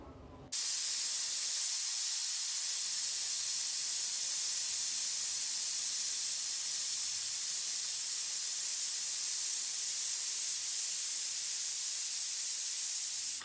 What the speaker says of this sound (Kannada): ಲಿಡ್ನ ಕ್ಲೋಸ್ ಮಾಡಿ 4 ವಿಸಿಲ್ ಕೂಗಿಸ್ಕೋತಾ ಇದ್ದೀನಿ